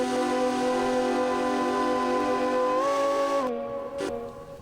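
Steam locomotive whistle in the Derail Valley train game: one long sustained multi-tone blast, loud and close, shifting pitch near the end before cutting off, followed by a short faint hiss.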